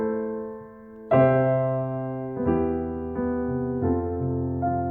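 A piano plays a slow progression of sustained chords, each struck clearly and left to ring before the next change.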